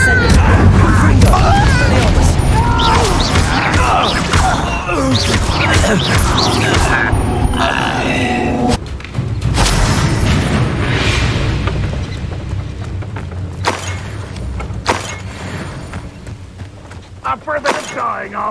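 Magical Confringo and Incendio spell explosions in Hogwarts Legacy burst loudly over and over, dense rumbling blasts and crashes layered with game effects, while a voice speaks through much of it.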